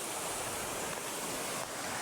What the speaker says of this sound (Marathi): झरियाच्या निधीचं पाणी